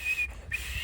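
A whistle blown in a short, steady, high-pitched tone that cuts out briefly and then returns, fairly loud and close, with no talking over it.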